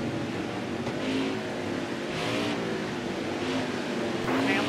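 Racing trucks in a Southwest truck series race at Bristol roar past in a continuous loud engine drone, with repeated swells as trucks go by one after another.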